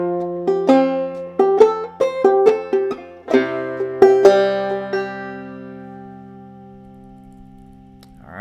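Clawhammer banjo playing the C part of Snowdrop, a run of bright plucked and brushed notes with a bouncy rhythm that ends on a long ringing chord fading out, close and alone.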